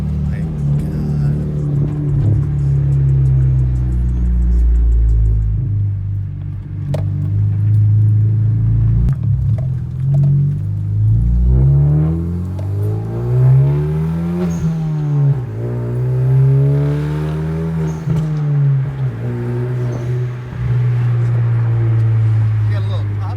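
A Hyundai Genesis Coupe with a full ISR turbo-back exhaust revs up and down repeatedly, rumbling deep, throaty and close, with people talking over it.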